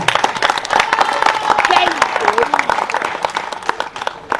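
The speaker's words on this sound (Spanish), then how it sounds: "Un aplauso para mi amigo Tatín" Guests applauding a friend at a 48th anniversary dinner of a group, a burst of clapping mixed with loud voices and chatter, people talking over it throughout.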